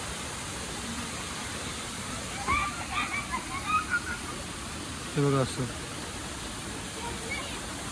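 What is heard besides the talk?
water flowing downhill in a jungle stream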